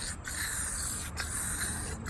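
An aerosol can of DEET insect repellent sprays onto a car headlight in close, steady hissing bursts, with three brief pauses between them.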